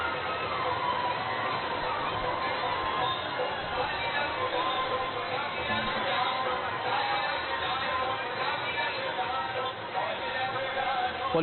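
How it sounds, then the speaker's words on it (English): A large roadshow crowd lining the road on the way to Motera Stadium cheers and shouts in a steady, dense roar that fills the whole stretch without pause. "Managing such a crowd is a daunting task for the authorities here"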